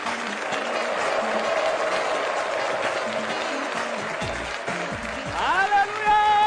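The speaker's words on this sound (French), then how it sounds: "Entendez un applaudissement," Audience applause for comedian Herman Amisi at a live stand-up show, a steady broad wash of clapping that runs throughout, with a voice rising over it near the end.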